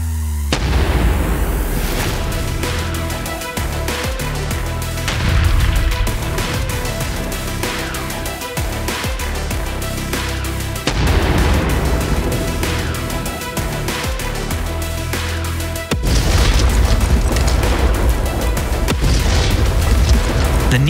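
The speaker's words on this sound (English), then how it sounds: "Both NEMO units start to execute the third fire mission of 6 rounds with a high rate" Two Patria NEMO mortar vehicles at Lohtaja Firing Range firing rounds at a high rate, loud heavy booms in quick succession over a constant engine rumble, with blasts hitting hard near the start, middle and end.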